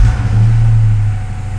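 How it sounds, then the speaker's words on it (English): A Ford Mustang V8 rumbles nearby with a loud, steady low-pitched engine drone, holding for a moment before easing slightly. "Love to hear the sound of the V8."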